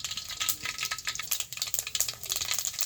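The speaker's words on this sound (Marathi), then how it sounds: "थोडीशी मोहरी टाकायची," Mustard seeds crackling and sizzling in a ladleful of hot oil, a dense run of close, bright pops and spatters without pause.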